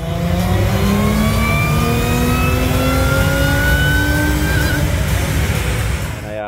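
A Holden Calais engine revs hard on a dyno, one loud sustained pull with its pitch climbing steadily for about six seconds before it drops off at the end.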